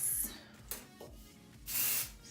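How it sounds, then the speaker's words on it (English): Hairspray misted onto hair in short bursts, several quick close hisses separated by brief pauses, with a longer spray near the end, fairly quiet overall. "Spray."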